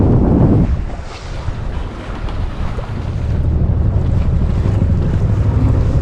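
Wind roars across the microphone while water rushes and slaps against the hull of a sailboat under sail, steady and close, with no voices.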